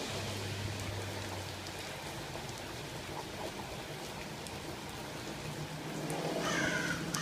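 Steady rain falls outdoors in a continuous soft hiss at moderate distance, while a crow caws near the end over a low hum.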